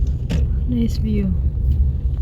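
A car moves through heavy city road traffic in Dubai, giving a steady low rumble inside the cabin with a few brief tonal squeaks, while people talk over it.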